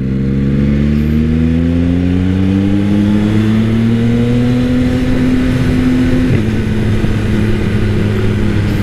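Motorcycle engines rev close by and loud, a dense droning roar whose pitch climbs steadily over several seconds and then drops sharply before settling at a lower steady rumble.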